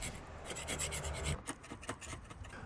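Metal gas pipe components and fittings, coated in old paint and rust, being scraped by hand with a cheap tool: a close, steady run of rasping strokes with short sharp scratches, no talking.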